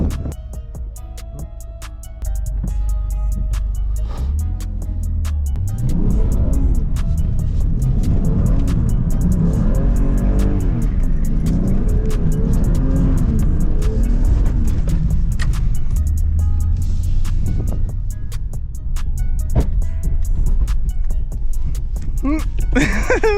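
A BMW E46 drift car's engine roars and revs loudly from inside the cabin on a B-road, rising and falling in pitch against a steady, heavy rumble.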